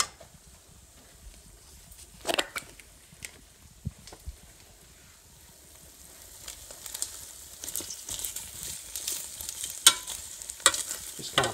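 Buffalo wings tossed with tongs inside a Ninja Foodi, with soft stirring scrapes and a low background sizzle, punctuated by a few sharp clicks and clatters that grow busier toward the end.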